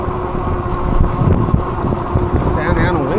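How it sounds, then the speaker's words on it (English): Strong Santa Ana wind gusts buffet the microphone during a night eBike ride through the City of Orange, a steady roaring rumble with passing traffic noise and a person talking over it. "these gusts of wind are pretty strong."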